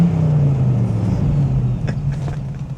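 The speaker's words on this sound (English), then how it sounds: "Even in fourth gear, 40 miles an hour, you punch it and it still moves." A 1977 Pontiac Trans Am with a 400 big-block and four-speed manual pulls hard in fourth gear from about 40 mph, a loud, steady low engine drone with a deep rumble and slight shifts in pitch.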